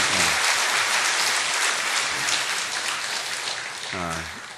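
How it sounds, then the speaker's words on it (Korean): Congregation applause welcoming a visiting pastor at a church service, dense and steady throughout, fading slightly toward the end, with a brief voice near the finish. "여러분 박수로 환영하겠습니다"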